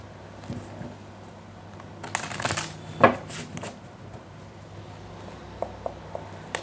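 Tarot cards shuffled by hand for a reading, quiet and close: a brief riffling burst in the middle, then a few soft, scattered card clicks, with no voices.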